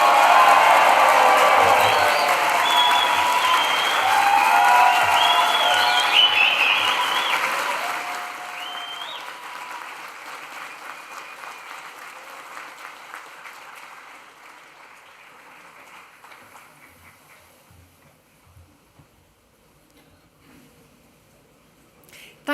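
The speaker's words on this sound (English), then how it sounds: "let's mark this incredible achievement this afternoon with the biggest cheer in this room today, please, and a round of applause" A graduation ceremony audience bursts into loud, dense applause and cheering that holds for several seconds, then gradually thins to scattered claps and fades into quiet room noise.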